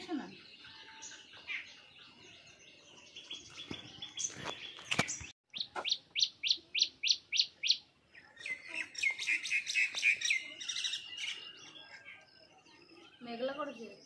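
Birds chirp outdoors, close and fairly loud, in a rapid run of about eight sharp, evenly spaced notes, followed by a burst of quicker trilling tweets and scattered calls.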